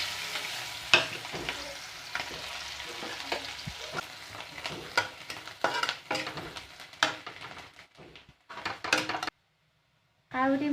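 Onion and garlic hit hot oil in a pan, giving a steady close sizzle with scattered clinks and scrapes of a stirring utensil, broken by a brief pause and a short stretch of silence near the end.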